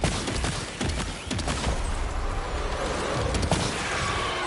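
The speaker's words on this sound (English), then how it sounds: "these take 4 shotgun shells on the number 2 shotgun" Shotgun shells fired at a BT in the video game Death Stranding 2, a series of loud sharp blasts spaced about every second over a dense, noisy ambient background.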